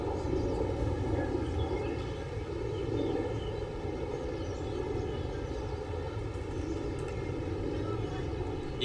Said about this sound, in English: You can hear the planes flying in the background.